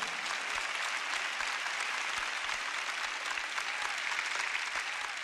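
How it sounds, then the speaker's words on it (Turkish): Audience applause fills a sermon hall, steady dense clapping throughout with no break, moderately loud and even, with no voices on top. "eğer haklıysam alkışlayın lütfen"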